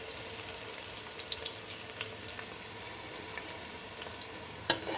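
Onions hit a hot pan over low to medium gas flame for chicken do pyaza, giving a faint, steady crackling sizzle with a brief clatter near the end.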